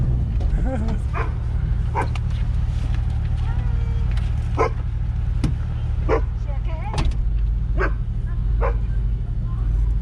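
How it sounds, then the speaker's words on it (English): A dog at an RV park gives several short barks and yips at irregular intervals over a steady low rumble of traffic or engine noise, fairly close and clear. "Damn dog wants to bite Tammy's ass"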